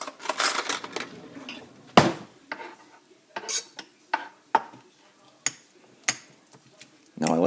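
A utensil clinks and scrapes against a bowl while onion and tomato taco filling is stirred together, giving sharp intermittent taps at a steady, unhurried pace, close and fairly loud, with a bit of talking over it.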